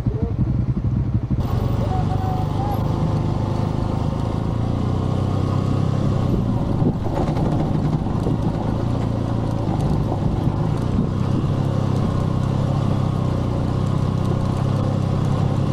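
A motorcycle on a steep back road between San Nicolas and Itogon, Benguet, heading downhill under braking, its engine a continuous close drone with road and wind noise and no clear speech.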